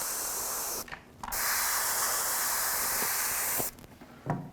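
Close spray paint hissing through a stencil onto a toy laser blaster, in a few bursts: a short one, a long steady one, then a brief puff at the end.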